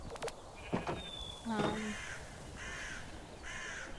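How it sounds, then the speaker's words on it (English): In the video game Minecraft, birds fly around and give several harsh caws, one of them fairly close, over a soft game background. "And the weird birds that keep flying around."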